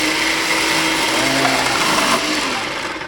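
A Shardor mini food processor pulses through a carrot, its motor whirring loud and steady with a grinding, buzzing edge before easing off at the end.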